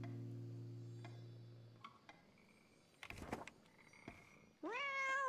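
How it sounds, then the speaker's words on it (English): A cat gives a faint, short meow, then a clearer rising meow near the end, among soft ticks and small household noises. "We have not given the kitty cat love."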